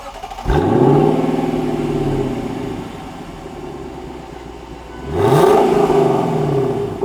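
A 2021 Lexus LC500 Convertible's 5.0 V8 is revved twice, each blip climbing sharply from a settled idle and then easing back down. The exhaust is close and loud, with no talking over it.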